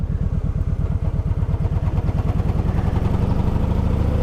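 Honda Voyager motorcycle engine lugging in third gear out of a slow turn, a loud, steady low thumping pulse close by with no talk.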